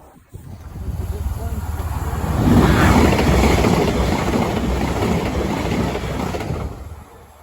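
A train passes a level crossing near a village in Essex, its rumble swelling from a distant murmur to a broad roar at mid-clip and then fading away, heard outdoors from the roadside.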